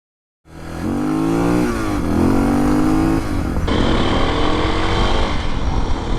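A Suzuki DR650 dual-sport motorcycle with a 14-tooth front sprocket roars loudly and close while being ridden, its engine note rising and dropping through gear changes.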